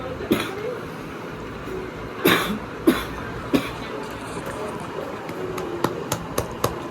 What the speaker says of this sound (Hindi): थोड़ी सी खांसी हो गई है इसको